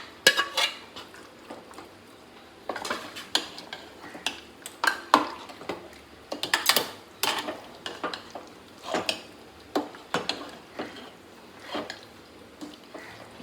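Chicken marinated with ginger and garlic is mixed in a pot for Hyderabadi dum biryani, giving irregular clanks and scrapes of a utensil against metal, some close and sharp, with faint background sizzle and no talking.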